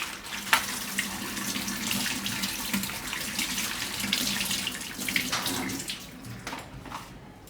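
Running tap water pours steadily over vegetables in a sink, splashing continuously as they are rinsed, with a few brief knocks and louder gushes along the way and no voices.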